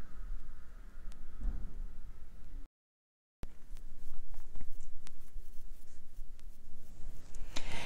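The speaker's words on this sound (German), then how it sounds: "Hier zeichne ich schon am nächsten Band" A pen scratches and strokes across paper while comic illustrations are drawn, in short irregular scribbles broken by a brief silent gap, close and fairly quiet.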